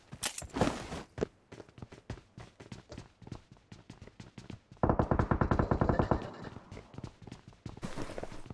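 Gunfire in a battle royale shooter game, a burst of rapid automatic shots in the middle of the stretch, with scattered single clicks and footstep-like taps before and after, fairly close and loud.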